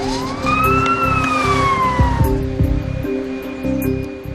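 An ambulance siren wails with rising and falling tones over a steady low engine and traffic rumble, loud and continuous, with a few sharp knocks.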